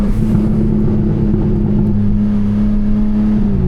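BMW M4 Competition with the S58 engine and no mid-pipe, stock muffler still fitted, a loud, steady low exhaust drone held close up, with a slight rise in pitch near the end.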